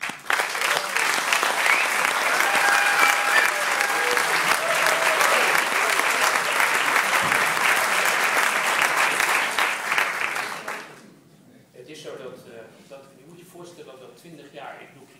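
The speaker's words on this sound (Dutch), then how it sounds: "applaus." Dense, steady audience applause fills a hall in the Netherlands for the Kriterion cinema's student-run sneak preview crowd, holding loud for about ten seconds before cutting off into faint murmur and rustle.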